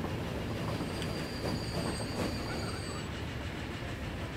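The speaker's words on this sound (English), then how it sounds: "3 generations of trains right there" Trains run on the tracks in Transport Fever, a railway game, where a steady rolling rumble of wheels mixes with a thin, high wheel squeal that sustains for a few seconds before fading, with no voices.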